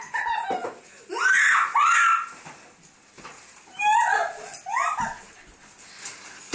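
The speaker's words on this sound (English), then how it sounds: "this little Chihuahua" A small Chihuahua tussling over a chewed toy squirrel, making high yips, whimpers and squeals in bursts, close and fairly loud, with short pauses between outbursts.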